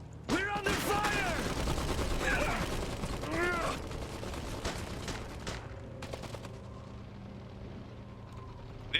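Sustained battlefield gunfire from the Iron Harvest real-time strategy game, with dense overlapping bursts and volleys, heaviest in the first half and easing later, under shouted unit callouts.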